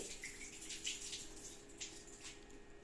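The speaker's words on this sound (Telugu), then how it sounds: "నీళ్ళు వంపేస్తున్నాను చూడండి" Water is poured off soaked rice, lentils and sorghum for a diabetic-friendly dosa batter, a quiet continuous splashing trickle with a few brighter gushes, close by and with no one talking.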